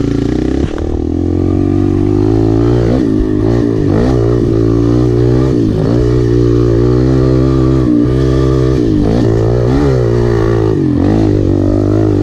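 An enduro motorcycle riding laps roars close and loud, its engine revving up and down repeatedly in uneven surges with no one speaking.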